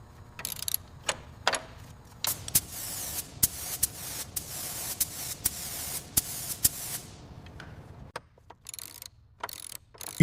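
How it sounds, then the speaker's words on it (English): A heavy-duty chain hoist lifts a salt-damaged, corroded Mercedes-AMG GT Black Series V8 recovered from the ocean. Ratcheting clanks and mechanical clicks repeat irregularly throughout, mixed with loud hissing, spray-like bursts, and a quieter pause near the end. "Utilizing the heavy-duty hoist, the technicians secure the final lifting chains on this rare AMG V8."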